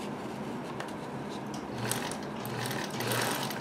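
A Necchi Supernova Ulta free-arm sewing machine stitches steadily, a continuous close mechanical whir with small shifts in pace and no talking.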